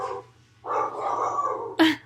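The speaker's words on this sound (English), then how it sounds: "Those are my dogs." Pet dogs bark at home: a short bark, a longer drawn-out bark or growl, then a sharp final yap, close by and fairly loud with no talk over them.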